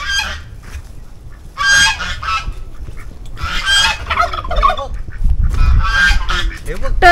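Farm turkeys at a farmhouse stay call out in loud, repeated honking gobbles, several close bursts spread across the clip over background rumble.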